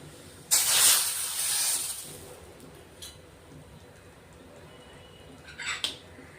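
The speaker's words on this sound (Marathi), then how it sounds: "थोडं तेल गरम करून आपण तडका देणार आहेत मिरची पावडरचा" Chili powder dropped into hot oil for a tadka over methi rassa bhaji, giving a loud hissing sizzle that swells for about a second and a half, then fades to a low crackle with two short hissy bursts later.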